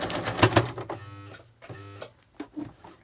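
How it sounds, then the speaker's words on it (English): A sewing machine straining as it stitches through a thick layer of hemp fabric scraps, a close, labored mechanical run in short bursts with brief pauses between. "Sewing machine didn't like that. It's too thick."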